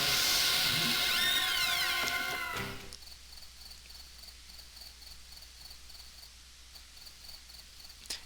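Steady cricket chirping fills an empty room in the 1992 Sega CD game Night Trap, a faint, even pulsing that continues alone after a louder burst of game sound fades out.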